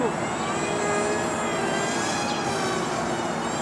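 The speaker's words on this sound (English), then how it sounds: "I think you're throttling up, Effie." A Crack Wing Twin RC airplane's motors whine steadily and close by for the whole stretch, holding a high, even drone as the throttle is worked, with no talk over it.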